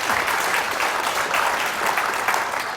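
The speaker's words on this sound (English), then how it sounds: "It deserves a round of applause" Audience applause at the Constitution Center, a steady dense wash of clapping from a crowd that holds at an even level throughout, close and full, with no voices over it.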